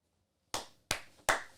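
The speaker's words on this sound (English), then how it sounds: "Everybody clap it up." Three sharp, separate hand claps ring out in a sparse, even rhythm after a short silence, each one bright and close with a brief decay, at a casual podcast-style recording.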